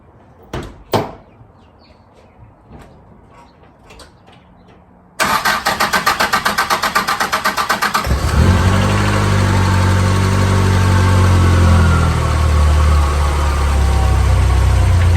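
A few scattered clicks and knocks come first, then a car engine cranks in a rapid, loud stutter, catches, and settles into a steady, rumbling idle up close.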